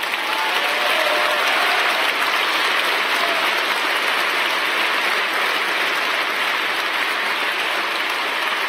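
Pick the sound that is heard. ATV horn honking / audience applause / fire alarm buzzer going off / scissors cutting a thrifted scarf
audience applause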